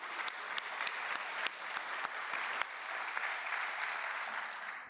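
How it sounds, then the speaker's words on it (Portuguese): An audience at a Brazilian government ceremony for signing a federal pay raise applauds steadily and fairly loudly, with sharp individual claps standing out from the sustained roar. "Acho que merece uma salva de palmas também."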